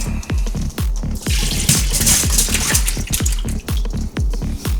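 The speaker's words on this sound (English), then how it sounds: "we've got a 24-hour brine here with our hot wing sauce. First step we got here is we're going to go ahead and strain it." Hot wing sauce brine, after a 24-hour soak, is strained off raw chicken wings: steady close pouring and splashing of liquid, with repeated dripping and sloshing throughout.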